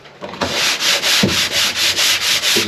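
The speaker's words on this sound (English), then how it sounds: "Get your sander. This is real wood." A power sander works over real wood veneer on a large panel, a loud close steady rasping hum that pulses in quick regular strokes, with a few heavier scrapes as it starts.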